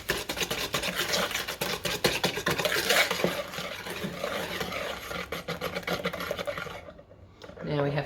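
Whisking ingredients in a bowl with caster sugar for a raspberry jam coconut slice, a steady rapid scraping and rasping of the whisk against the bowl that continues throughout, then thins out and briefly stops near the end.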